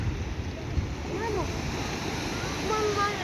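Sea waves washing onto the beach at Sidi Bouzid, a steady broad roar of surf with some splashing throughout, with people talking faintly in the background.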